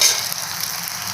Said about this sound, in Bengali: এরপরে একইভাবে আমি সমস্ত চপটাকে ভেজে নিলাম